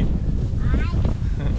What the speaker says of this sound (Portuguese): Só o vento que atrapalha um pouquinho.